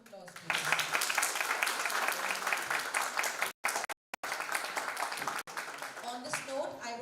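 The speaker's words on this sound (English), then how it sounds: "can we have a huge round of applause, please?" Audience at an intra-college moot court competition applauds in a sustained, fairly dense burst with voices mixed in, briefly cut by two short dropouts before the clapping resumes.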